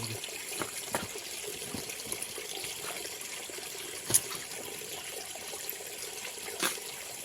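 A small mountain stream trickling and flowing over rocks, a steady close wash of running water with a few sharp clicks of stones being turned.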